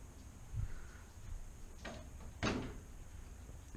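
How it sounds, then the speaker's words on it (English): A door being opened quietly indoors, giving a soft latch click followed by a brief rattling sweep, with no one speaking. "And if I open the door,"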